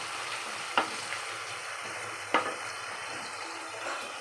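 Onion frying in oil gives a soft continuous sizzle, with two distinct scrapes of a spatula against the pan and no voices.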